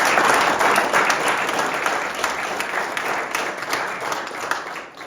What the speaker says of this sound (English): So give Noah a round of applause.